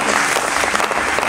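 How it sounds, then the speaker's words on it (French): Audience applause at a Congolese cinema awards ceremony, a dense, steady wash of many hands clapping loudly and continuously throughout. "on applaudit très très fort"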